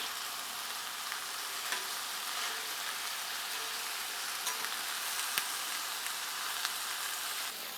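Chicken and corn frying in a pan for a farmhouse-style frango caipira, a steady crackling sizzle with scraping stirring strokes running throughout at moderate loudness.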